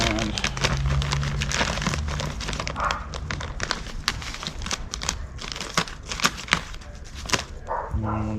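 A plastic bag of garden mulch being cut and torn open outdoors: continuous close crinkling and crackling with sharp rips, the bag rustling loudly throughout, with no clear talking.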